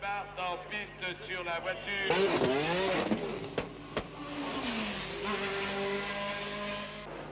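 Renault Alpine race car at Le Mans in 1978 passing at full speed, high engine whine sweeping up and down in pitch as it goes by, steady and fairly loud with a faint voice underneath.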